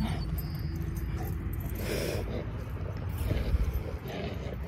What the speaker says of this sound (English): I don't know if you can hear all the growling in that